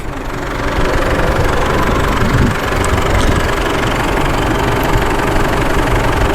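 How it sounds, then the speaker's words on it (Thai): The 2.5-litre diesel engine of a 2007 Chevrolet Colorado pickup idles steadily up close, a low, even rumble with a faint ticking knock, running continuously without revving. "เสียงเครื่องนุ่มมาก"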